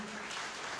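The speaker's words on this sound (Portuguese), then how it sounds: "Você pode dar uma salva de palmas a Cristo Jesus?" Church congregation applauding, a steady dense wash of clapping that is brief and moderately distant.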